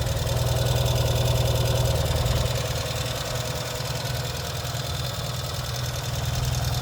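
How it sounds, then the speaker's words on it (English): A 2022 Ural sidecar motorcycle engine idles close by with a steady, low mechanical throb and rhythmic exhaust pulses. It is slightly louder at first, then settles to an even idle, with no voices. "You hear your exhaust valve close off."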